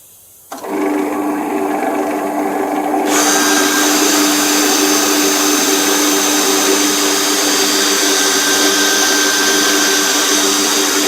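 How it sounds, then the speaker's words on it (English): A dust extractor starts with a sudden jump and runs steadily as a loud, close, continuous droning whine with a rising pitch, beside the lathe while a Fiji mahogany bowl is turned. "I'll turn it off because of the dust extractor"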